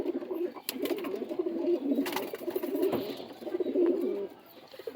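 Madras pigeons cooing close by, a steady run of low, rolling coos repeating across the whole stretch with no talking.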